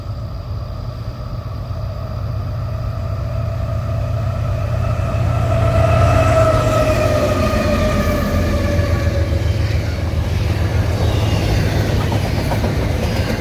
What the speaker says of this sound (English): I would stop at East Elko to wait for NS 287 with UP 7312 leading the way